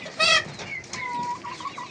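Native desi chickens cluck and call on a small farm, a short sharp squawk followed by softer, drawn-out clucking at moderate distance.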